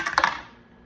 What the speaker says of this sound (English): I'm going to roll the die again to see how many dollar bills we put in each envelope